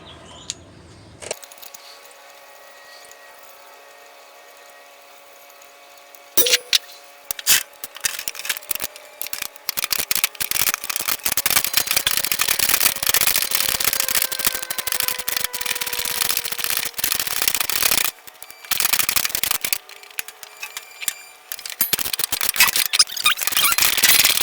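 Work on a Chevy Silverado drive shaft, with tools loosening the bolts at the center support bearing and yoke: metallic squeaks and scraping clicks come in bursts, loud and close, with a few short quiet gaps.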